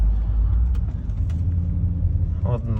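Audi A6 C5 with the 4.2 engine driving through city streets, heard from inside as a steady low engine and road rumble with a few knocks from bumps, while someone talks over it.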